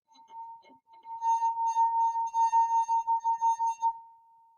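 A single pure, hollow tone from blowing across a glass soda bottle, pulsing in a quick series of breathy bursts before fading out.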